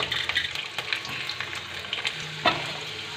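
Chopped garlic and cumin frying in oil in a pan for a peanut chutney, a dense close crackling sizzle with scattered pops and a stirring scrape, no voices.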